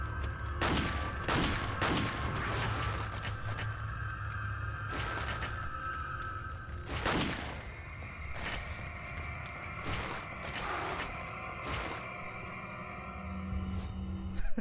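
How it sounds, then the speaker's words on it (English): Pistol shots in Resident Evil 4, a dozen or so sharp cracks spaced irregularly across the stretch, some in quick pairs, loud over a low game ambience and a steady tonal hum. "Let me get him with the pistol one time."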